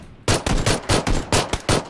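Rapid bursts of loud gunfire in PUBG's zombie mode, roughly six or seven sharp, evenly spaced shots crackling close and dry after a brief quiet start, with no talk over them.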